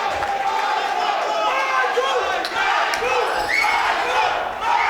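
Dense crowd cheering and shouting at a B-class full-tie-rules kickboxing fight during a Big Bang event, a continuous loud roar of many voices with rising yells through the final round.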